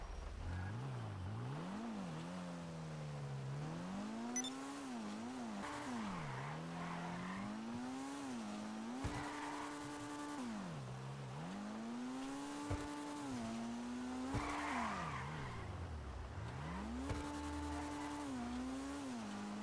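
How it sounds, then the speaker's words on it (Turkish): Car in GTA Online drifting, engine revving up and down in repeated waves with tire squeal and skidding through each slide, steady and close with no talking. "Çok iyi kayıyor araba."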